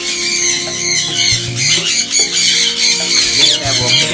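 A breeding pair of ringneck parrots gives loud, harsh squawks and squeals in repeated bursts, close by and filling the whole stretch, with faint talk in the background.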